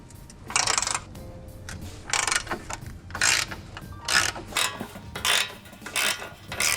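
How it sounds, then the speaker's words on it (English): A ratchet with an 18 mm socket works on an Audi DL501 transmission's cross brace bolts, giving repeated bursts of fast metallic clicking, close and fairly loud, with short pauses between strokes and no talk. "Next step is to break all the cross brace bolts free. Got an 18 mil socket to do so."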